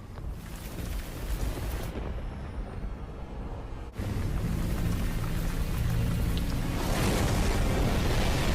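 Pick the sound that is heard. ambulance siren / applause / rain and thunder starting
rain and thunder starting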